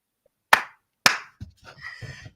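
Two sharp, loud hand claps about half a second apart ring out close up, followed by softer shuffling and a faint voice.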